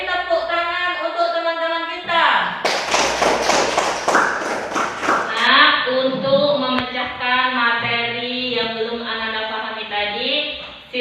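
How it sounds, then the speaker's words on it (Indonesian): A burst of clapping for a few seconds in a classroom, set between stretches of voices and children singing or chanting. "Beri tepuk tangan untuk teman-teman kita."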